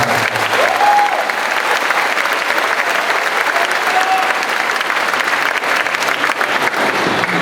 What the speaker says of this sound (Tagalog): Yun kung palakpak ninyo pang artista yan